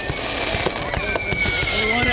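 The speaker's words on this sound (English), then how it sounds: "We run out of tape to film the fireworks show, Dale." Fireworks crackle and pop in rapid, uneven bursts at a high school football game, sharp reports spread through a steady noisy background, with people talking over them.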